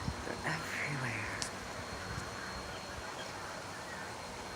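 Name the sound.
flock of birds calling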